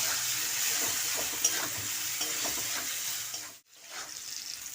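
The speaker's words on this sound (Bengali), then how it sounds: "আলু ভাজা হয়ে গেছে" Potatoes fry with turmeric and salt as they are stirred, giving a soft, even sizzle with light scraping that drops out briefly near the end before resuming.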